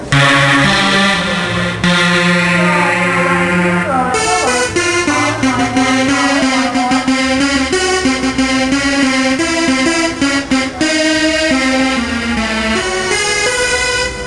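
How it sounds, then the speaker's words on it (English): A sustained synthesized tone from a Roland Sonic Cell and MV-8800 played as shifting notes, washed in reverb with echoing delay trails, loud and continuous throughout. "you can give it a little bit of reverb and some delay"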